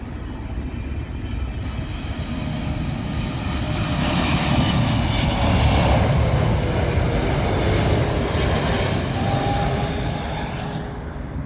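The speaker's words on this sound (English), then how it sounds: "Up next, the big Saudia 777." A Saudia Boeing 777 landing at Heathrow on runway 27L, a heavy twin-engine roar that swells to its loudest mid-pass overhead and then eases off, with no voices.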